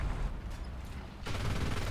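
A tank cannon fires in War Thunder on the Flandria map, a heavy booming blast with a rumbling tail, followed by a second loud burst a moment later, alone without talk.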